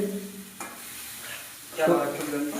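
Sonali chicken is stirred lightly in a frying pan, sizzling softly with a few utensil scrapes, close up, while a voice talks briefly over it.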